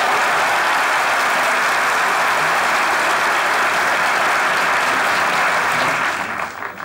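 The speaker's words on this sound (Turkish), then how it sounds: "Siz neyi alkışladınız mafyayı?" Loud, dense audience applause at a live Turkish comedy sketch show, a continuous wall of clapping that holds steady before fading near the end.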